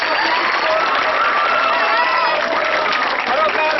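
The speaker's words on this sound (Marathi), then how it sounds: "म्हणून जोरदार टाळ्या" Loud, dense applause and crowd noise fill a school hall for a talent-hunt contest winner, with voices and cheering mixed into the clapping throughout.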